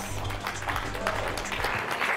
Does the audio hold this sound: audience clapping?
yes